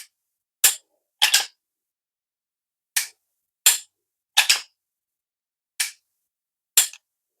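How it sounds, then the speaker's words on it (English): Crisp, sharp clicks from the trigger pull and reset of an AREX Delta L Gen2 pistol: seven short, distinct snaps spaced irregularly, some in quick pairs, against otherwise silent background. "Nice crisp break. Super reset and tactile trigger."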